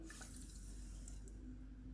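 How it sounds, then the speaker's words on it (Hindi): Water pours steadily into a pan for sugar syrup, a soft continuous splashing and trickle held close and moderately quiet, with no talk over it. "पानी डालेंगे,"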